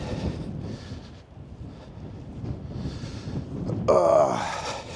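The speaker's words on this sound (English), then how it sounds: "No, still very windy." Steady rushing wind buffets the microphone on a coastal walk from Castletown to Scarlett, Isle of Man, with a brief brighter gust-like burst near the end.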